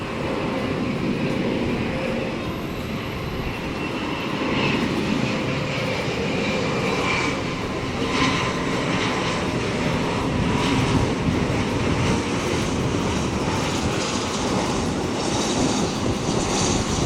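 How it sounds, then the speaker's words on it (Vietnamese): A Dassault Falcon 8X business jet touches down on runway 25, a steady, loud engine rumble and rushing noise holding throughout with no voices over it. "Bây giờ chiếc máy bay hạ cánh xuống đường băng 25 phái."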